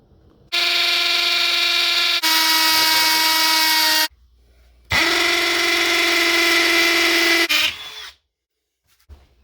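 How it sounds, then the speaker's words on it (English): A hammer drill with a masonry bit drills holes in long, loud, steady whining bursts, two main runs separated by a brief pause, close up with no talk. "now to drill the holes, you need a masonry bit and a hammer drill"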